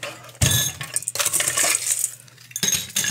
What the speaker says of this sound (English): Put a little ice in our highball.